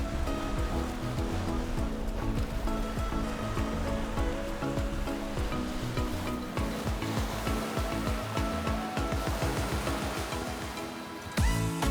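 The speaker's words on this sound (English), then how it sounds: "it's windy and cloudy, but I think just being at the sea here is pretty awesome." Ocean waves at the sea on a windy, cloudy day, a steady loud wash of surf and wind noise throughout, heard up close with no talking.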